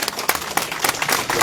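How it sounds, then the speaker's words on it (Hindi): Clapping from a crowd at a political gathering welcomes a village head, Abdul Majeed, sarpanch of Fazlabad. Short bursts of applause rise and fall over about a second and a half, fairly close and dense, without speech. "इनको तालियों से इस्तकबाल किया जाए"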